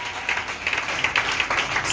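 A church congregation applauding the Lord during a prayer and fasting service, a short stretch of steady mid-distance clapping with crowd noise.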